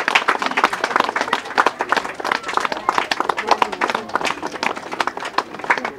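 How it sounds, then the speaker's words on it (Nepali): A crowd at a Teej programme held by a disability organisation in Nepal claps together, a brisk, dense patter of many hands sustained for several seconds at close range. "एकदम सबैजना ताली बजाइदियो"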